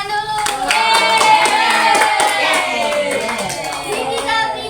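Primary school children and teachers clap together in a classroom during a coding and artificial intelligence training lesson, rhythmic hand claps mixed with children's voices and some singing-like tones, lively and close throughout.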